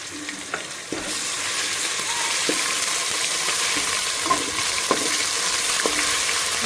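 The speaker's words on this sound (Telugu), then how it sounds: "పచ్చి వాసన పోయేంత వరకు ఫ్రై చేసుకోవాలి" Ginger garlic paste fries in a pan for chicken curry, giving a steady, close sizzle with a few faint clicks of a spoon, and no one speaks.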